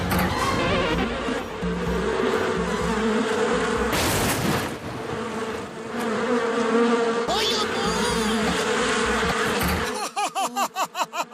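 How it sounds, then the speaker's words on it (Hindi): Giant mosquitoes in a Motu Patlu cartoon drone in a loud, continuous buzz that rises and falls, with voices and music mixed over it and warbling effects near the end. "वो जायंट मच्छर बन गए हैं"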